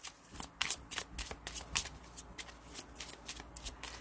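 Tarot cards shuffled by hand in a quiet room, a quick irregular run of crisp riffling flutters and soft slaps, close and fairly faint.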